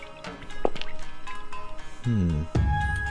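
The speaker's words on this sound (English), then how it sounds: "This seems like a good time as any to use a water bottle." A water bottle used in the video game Amayado Bus Stop gives soft liquid drips and squishy sloshing, a few short wet bursts followed by a fuller gurgling pour near the end, close and moderately loud.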